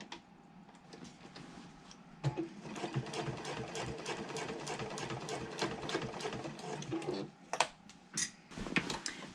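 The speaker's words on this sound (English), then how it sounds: "So just across the bottom of the liner panels, we're gonna stitch back stitching at the start and stop." A sewing machine stitches across the bottom of handbag liner panels, running in a fast, steady mechanical chatter for several seconds, with short bursts and clicks as it starts and stops for back stitching.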